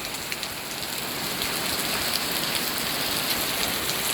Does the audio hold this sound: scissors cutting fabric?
no